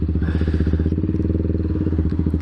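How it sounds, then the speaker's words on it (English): A Kawasaki Z125 motorcycle engine idles just under 2000 rpm after its computer recall update, a close, loud, steady low thumping putter with an even rapid rhythm throughout. "it's idling a little under 2000 now"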